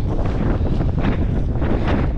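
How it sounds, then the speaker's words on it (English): Strong January wind buffets an exposed hillside on the Snowdonia Slate Trail, roaring loudly into the microphone in continuous gusty blasts with no speech. "it is mighty blowy"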